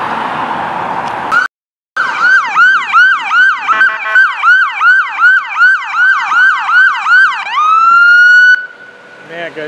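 Loud ambulance siren on a street wails in a fast rapid yelp, cycling evenly and close by, then switches to a steady rising tone before cutting off.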